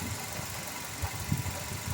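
A Toyota Avanza engine idles with a noisy, rough running sound, a steady low rumble with faint irregular knocks, heard close and alone.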